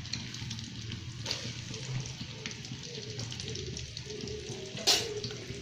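Chopped onions fry in oil in a wok with a steady, close crackling sizzle that runs throughout, while a voice talks over it.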